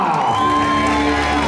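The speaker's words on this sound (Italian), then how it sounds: "I vostri applausi per Matteo Botta." A crowd cheers a cycling race winner in a loud, continuous burst of shouts and whoops, close and dense throughout.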